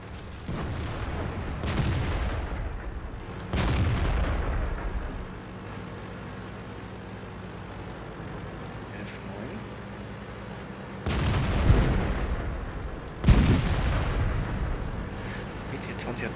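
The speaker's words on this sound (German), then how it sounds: "BT-20 hat daneben geschossen" Tank guns firing in World of Tanks, with several heavy booms spaced across a low rumbling battle background, some near and loud, others softer.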